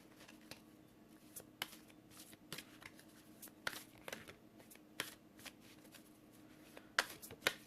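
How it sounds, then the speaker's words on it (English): A large round tarot deck, hard to shuffle, is handled close up, making soft papery rustling with irregular sharp card snaps and flicks in a quiet room. "I should say while I'm shuffling"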